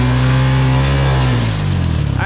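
Vehicle engine revving hard while its tires spin in thick creek mud, a loud close roar whose pitch climbs and then drops and wavers as the wheels churn.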